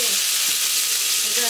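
Small chili peppers drop into hot oil in a wok while cooking dry-pot pork intestines, giving a steady, close, bright sizzle and hiss that runs evenly throughout, with a faint voice underneath.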